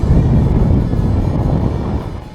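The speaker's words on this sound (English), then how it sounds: "Unfortunately though, the wind had picked up even more." Strong wind roars across a paragliding landing field, buffeting the microphone in a loud, continuous low rumble with gusty swells and no voices.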